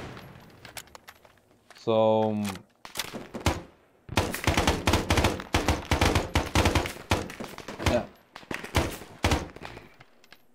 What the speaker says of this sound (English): You can hear explosions and shooting in the distance.